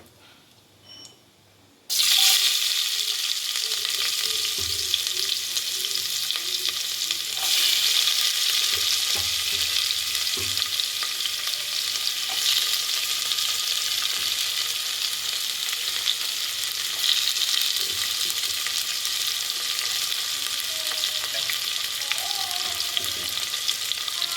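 Onion and asafoetida frying in a pan for thandu keerai kootu: a sudden loud sizzle starts as the onion goes in, then a continuous, close crackle with faint stirring, and no voices.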